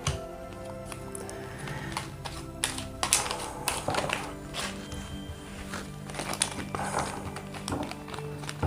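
Tarot cards being shuffled, producing a quick flurry of crisp, rapid flicks and soft taps close by, in irregular bursts of riffling and clatter, with faint talk.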